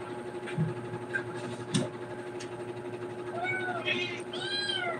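Several cats meow in short, rising cries near the end, mixed with background household noise and some faint talking earlier, the calls overlapping as more than one cat joins in.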